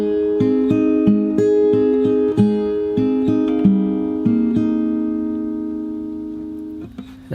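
Fingerstyle acoustic guitar plays the opening bar of a song, a steady walking bass under plucked chord tones, ringing clearly alone before the last notes fade and a fresh pluck sounds.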